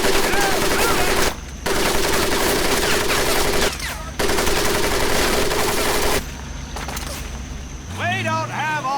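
Sustained machine gun fire rakes over the mud pit on a training course in Medal of Honor: Pacific Assault, loud continuous bursts with short gaps, then a shouting voice breaks in at the end.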